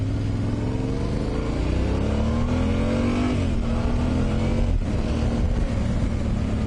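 A Yamaha Tenere 700 motorcycle engine revs up loudly through the gears, the pitch rising in steady sweeps with short dips at each shift, close and continuous over wind rumble.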